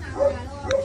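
A golden retriever puppy gives two short high whimpering yips close by over a low background murmur.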